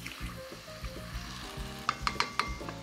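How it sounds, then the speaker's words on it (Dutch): Curry paste with coconut milk sizzling and frying in a pan for a vegan pointed-cabbage curry, a steady close crackle with stirring scrapes and a few sharp utensil clinks toward the end. "Nou, die boemboe heeft 2-3 minuutjes gebakken."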